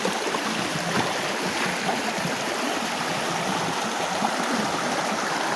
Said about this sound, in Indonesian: Sungai di dalam hutan seperti ini tuh.